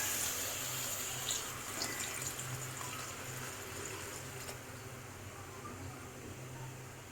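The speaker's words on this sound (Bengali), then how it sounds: "পানি দিয়ে দিলাম এখন" Water pours in a steady, soft stream into a cooking pot for a hilsa fish curry with tomato and bottle gourd shoots, a quiet continuous rush with faint background hum.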